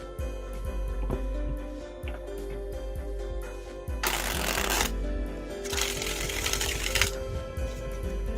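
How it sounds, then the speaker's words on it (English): Tarot cards being shuffled by hand, a run of quick crisp riffling clicks followed by two bursts of dense flapping riffle, close and distinct with no talking. "it doesn't hurt when I shuffle cards"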